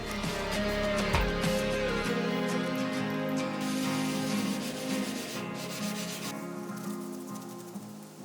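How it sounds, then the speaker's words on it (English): Aluminum engine cylinder top surface being flat sanded by hand, a steady continuous abrasive rubbing that stays close and fairly loud throughout, with no talking. "pull off the timing chain adjuster so that way I can flat sand the top surface, and then also hone out the bore"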